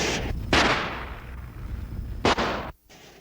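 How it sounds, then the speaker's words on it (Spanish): Gunshots in a dramatized account of the shooting of Colombian leader Jorge Eliécer Gaitán: loud, sharp bangs ring out close by with booming, echoing decay, then cut to sudden silence, with no talking. "4 disparos sonaron."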